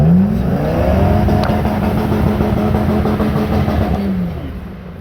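A car engine strains loudly with a steady high revving drone while the tire is stuck and spinning, holding for several seconds and then easing off as the revs drop near the end.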